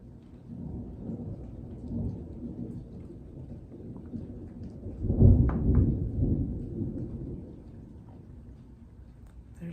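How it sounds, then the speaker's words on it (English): Thunder rumbles low and deep through a rainy day, swelling into a louder roll midway over a steady wash of rain. "There's that thunder again."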